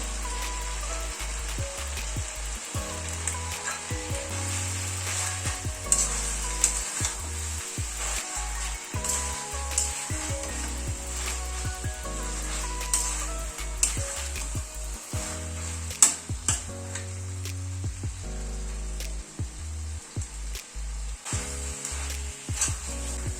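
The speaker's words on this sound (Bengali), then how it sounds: "মেথি পাতাটা দিয়ে আরও দু তিন মিনিট একটু কষিয়ে নিলাম" Chicken pieces with yogurt and fresh fenugreek leaves sauté in a pan with a continuous sizzle, broken by repeated scraping and stirring knocks over a long stretch, with no talking.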